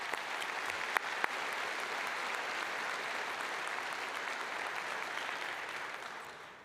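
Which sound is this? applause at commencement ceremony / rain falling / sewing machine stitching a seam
applause at commencement ceremony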